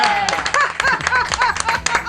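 Brief, uneven clapping from a small audience in a radio studio greets comedian François Pérusse at the end of an interview, with the claps broken up by overlapping voices.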